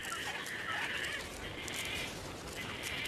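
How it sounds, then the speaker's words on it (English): Gang-gang cockatoos call in coastal heath, a steady wash of scratchy, creaking calls that overlap throughout against a constant background hiss. "This environment is richer, attracting gang cockatoos."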